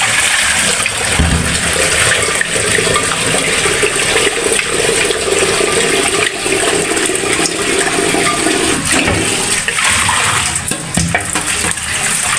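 Tap water gushes in a loud, unbroken stream while cut koi fish, potatoes and brinjal are washed, with faint splashing and clatter mixed into the constant flow.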